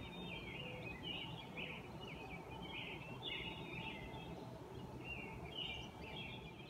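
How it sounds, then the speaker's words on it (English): Birds chirp and warble in short bursts over a steady, rushing outdoor background, somewhat distant and fairly faint. "It's cute, you can hear the birds."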